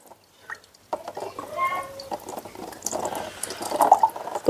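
Water splashes and gurgles as it is poured into a container, close by, amid quiet handling noises.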